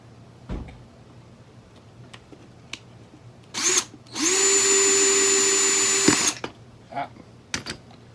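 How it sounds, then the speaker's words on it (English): Power drill boring a small hole in a guitar body: a short whir, then a loud, steady high-pitched drilling run of about two seconds, surrounded by handling clicks and knocks. "we're just going to drill a little hole in here."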